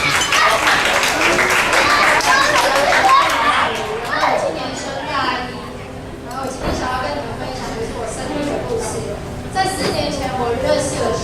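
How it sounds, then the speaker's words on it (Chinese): Applause at a church gospel dinner gathering, where a crowd claps to welcome a speaker. The clapping is loud and dense at first, fades midway and then picks up again, mixed with children's voices and chatter. "我们再次来掌声他，掌声欢迎"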